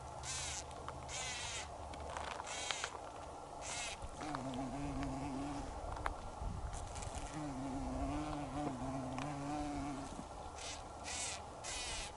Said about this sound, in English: Some sort of bee really enjoying that flower.